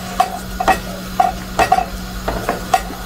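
Onions frying in a pan turned up to high heat, a steady sizzle with a low hum beneath and repeated scraping stirs of a utensil against the pan at a loose, regular pace.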